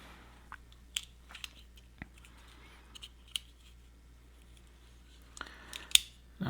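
Small multitool saw blade cutting, with scattered sharp clicks and rasping snips separated by short pauses against a quiet background.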